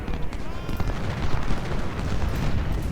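Massed musket and artillery fire in the Civil War strategy game Ultimate General: Civil War: a continuous dense, loud rumble of overlapping shots with no pauses.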